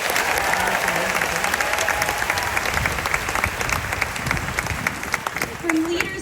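Steady crowd applause at the Disney's Hollywood Studios 35th anniversary celebration, honoring cast members, dense and sustained throughout with a voice speaking over it and occasional cheers.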